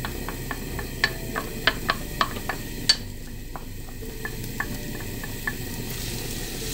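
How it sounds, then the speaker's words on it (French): Sliced onions sauté in oil in a pan under a constant sizzle, while a utensil stirs and scrapes with a series of sharp clicks and taps against the pan. "Vous versez vos oignons émincés."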